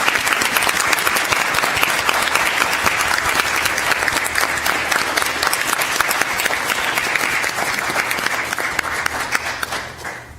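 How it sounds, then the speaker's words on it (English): Sustained applause from the audience at a Florida Bar induction ceremony, held for new bar members, with dense, steady clapping throughout that tapers off at the very end. "Let's give them all a round of applause"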